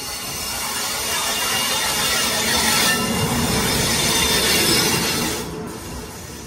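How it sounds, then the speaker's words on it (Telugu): A train hauled by a WAP-7 electric locomotive rolls past nearby as a steady, loud broadband rumble and hiss, with no voices. "వ్యాప్ 7 లోకోమోటివ్ అయితే పుల్ చేసుకుంటూ వచ్చేస్తుంది"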